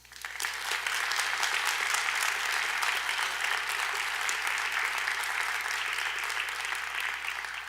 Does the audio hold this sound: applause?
yes